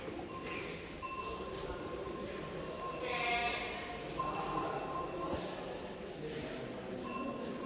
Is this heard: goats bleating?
yes